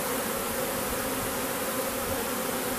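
A swarm of honey bees in April hums in a dense, steady drone, close and continuous, filling the air without pause and with no voices.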